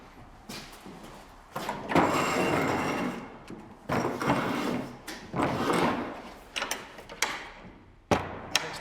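Old doors in a museum building are handled and pushed shut, giving several scraping, knocking bursts with clunks and rattles at a moderate distance, separated by short pauses.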